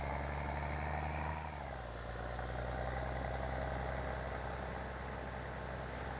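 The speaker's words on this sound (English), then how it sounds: "Well, the tractor pulls it down the highway okay" A video game tractor engine drones steadily while pulling a baler down a highway, a constant low rumbling hum with a slight drop in pitch partway through.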